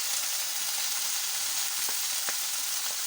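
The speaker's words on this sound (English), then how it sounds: "Now I'll add the onion. I'm using spring onions." Spring onions sizzle in a hot pan with browned beef and broccoli, a steady, dense frying hiss with a few faint stirring clicks, and no voices.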